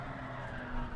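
Car tires skidding in Gran Turismo 7, a short steady tire squeal over a droning race engine, loud and close, lasting about a second with no talking.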